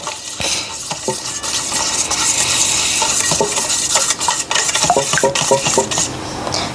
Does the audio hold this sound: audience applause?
no